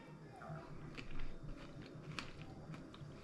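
Close, crisp crunching and chewing of freeze-dried egg salad with bacon, a few sharp bites and crackles over soft mouth sounds, with no talking.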